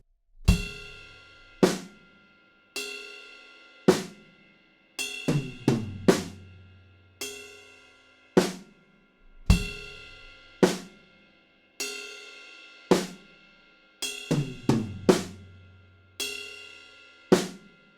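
Drum kit playing a sparse bridge groove in a song, with isolated kick and snare hits and electronic-style drum sounds spaced out in a steady, open rhythm, close and clear with no talking.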